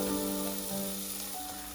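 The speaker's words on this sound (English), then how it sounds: "Add 1 big chopped onion into the pan and fry it well." Chopped onion fries in butter in a pan, giving a steady, close sizzle that continues throughout with a faint background hum and no talking.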